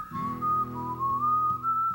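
A man whistles a steady, wavering melody, sustained tones gliding up and down close by, with no talking.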